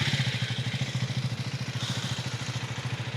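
A KTM Duke 390 with a single-cylinder 390 cc engine runs near the listener, a steady rapid low thumping pulse with mechanical clatter at an even idle.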